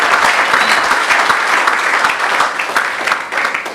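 A church congregation claps and acclaims the Lord during a sermon, dense sustained applause with cheering voices, loud and continuous, easing slightly toward the end.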